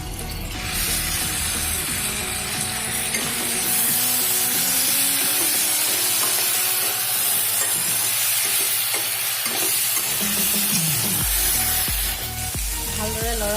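Meat frying in oil with ground cloves and cardamom sizzles loudly while a spoon scrapes and stirs it in the pot, giving a steady hiss broken by clattering strokes, with a brief voice near the end.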